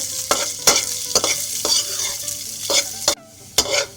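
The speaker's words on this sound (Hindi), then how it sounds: "ये बादाम है, ये रोस्ट कर लूँगी हल्के से।" Almonds roasting in a pan for Sheer Khurma, stirred in repeated scraping strokes roughly every half second over a soft, steady sizzle, close and fairly loud with no talk.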